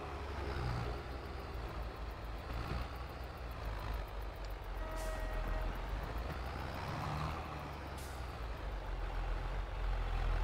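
A tractor engine idles at low revs in Farming Simulator 22, a steady, faint mechanical drone with a continuous low rumble and a few brief tonal beeps.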